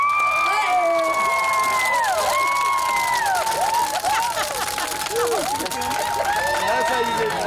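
A loud crowd at a red carpet event cheers, whistles and shouts steadily throughout as a guest comes down the carpet blowing kisses, with high excited voices and screams rising and falling over a dense wall of noise.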